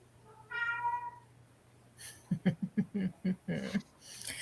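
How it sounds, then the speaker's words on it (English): Cats meowing close by: one drawn-out, rising-and-falling meow, a short pause, then a rapid run of about eight short, insistent meows, fairly loud against a quiet background. "Guys, there's cats here."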